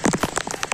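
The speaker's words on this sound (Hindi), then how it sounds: "और बारिश हो रही है" Rain falls on a surface in patchy, dense pattering, close and fairly loud, with no voices.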